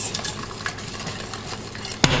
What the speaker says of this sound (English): you want to make sure you stir and stir and stir